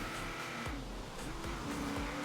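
A car drifting sideways in Forza Horizon 4, steady loud engine drone with rising and falling revs and a hint of tire squeal, close and continuous without talk.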